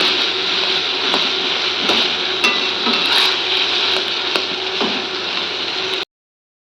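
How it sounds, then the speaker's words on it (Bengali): Potatoes stirred and fried with masala in a pan, a steady sizzle running throughout with occasional scraping clicks of a spoon against metal, ending abruptly. "এবার মশলাটার সাথে ভালো করে আলুটা কষাবো"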